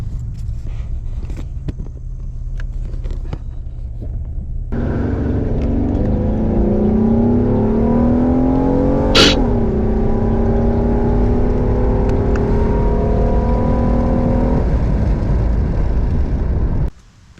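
A car fitted with a cold air intake accelerates from 0 to 60, its engine roaring loud and close through rising gears. There is a brief sharp shift point midway, and the run cuts off abruptly at the end.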